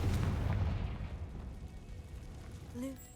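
A Confringo explosive spell blast in Hogwarts Legacy: a loud, deep rumbling boom that opens the moment and slowly decays, followed by a brief high magical whoosh near the end, with no talk.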